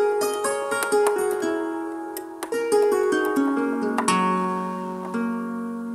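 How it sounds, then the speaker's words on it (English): An Omnisphere synth patch resembling a guitar pluck or harp plays a bright run of quick plucked notes in a lilting melodic pattern, close and clear, with no talking. "I found this really dope sound in Omnisphere. It's kind of like a guitar pluck or maybe a harp"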